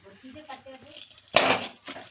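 A metal spatula clanks and scrapes in a wok while crushing chillies, with a loud burst of metallic knocking after a quieter stretch where faint voices murmur.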